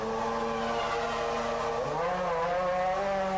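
Formula One car at speed on the Indianapolis circuit during a 2002 practice session, a loud, steady engine howl with a pitch drop as it passes near, no talking.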